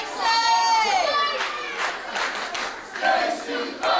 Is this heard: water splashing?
no